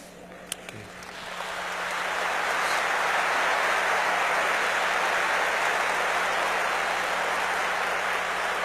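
A church congregation breaks into sustained applause that swells within the first couple of seconds and holds as a dense, steady wash of clapping in a large room.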